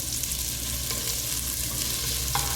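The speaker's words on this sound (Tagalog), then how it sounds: "medyo lutuin pa natin ng konti itong sibuyas" Chopped onion frying in a pan, a steady soft sizzle and hiss that continues throughout with a faint stir near the end, close by and without talk.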